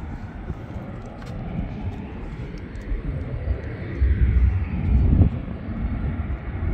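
An airplane taxiing at Canberra airport gives a steady, mid-level engine rumble and whine that runs the whole time and swells a little toward the end, heard alone at a moderate distance.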